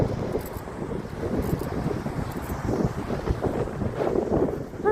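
Cold wind buffeting a microphone outdoors, a loud continuous rumbling roar with gusty swells and no pauses.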